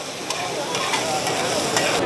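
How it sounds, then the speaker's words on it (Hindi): Onion, tomato and chilli frying in a pan in a restaurant kitchen, a dense, steady sizzle heard close up with faint scrapes of stirring and no voices. "ये कांदा है, टमाटर है, मिर्ची है, अब इसको थोड़ा फ्राई करेंगे।"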